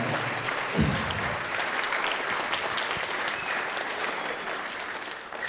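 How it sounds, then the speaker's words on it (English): An audience applauds band students and their music teachers at a school band gathering, a broad, steady wash of clapping from a large crowd that holds strong and tapers slightly at the end. "Give them a big hand of applause."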